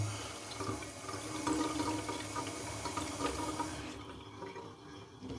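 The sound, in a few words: water running from tap in abandoned house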